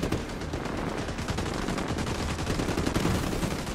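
Rapid bursts of automatic gunfire from the video game The Division 2, loud and continuous with sharp repeated shots layered over one another, no talking.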